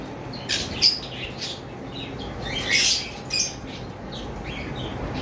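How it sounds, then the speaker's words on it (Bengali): Two female albino red-eyed lovebirds in a bird market give short, scattered chirps and squeaks, fairly faint over a steady background hum. "উপরে এক পেয়ার অ্যালবিনো লাভবার্ট রয়েছে এক পেয়ার বললে ভুল হবে দুইটাই ফিমেল দুইটাই রেড আই"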